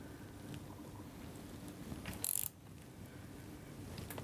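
A big ratchet slowly turns over a 2008 Honda CBR 600RR race bike engine during a valve adjustment, a steady close mechanical grinding with a brief sharp metallic click burst midway, no voices.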